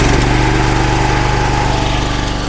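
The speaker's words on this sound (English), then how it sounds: "the particular engine will start and sit at that RPM" Small Honda engine started by a plug-in remote start unit, settling into a steady, close, loud idle with an even pulsing throb throughout and no talking.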